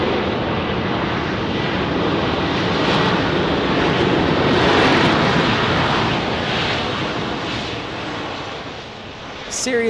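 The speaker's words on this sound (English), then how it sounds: "Serious reverse thrust on that 737-800." A Boeing 737-800 airliner landing at Dallas Love Field in severe weather, its reverse thrust making a loud, broad, sustained roar that swells in the middle and eases toward the end, with wind buffeting the microphone.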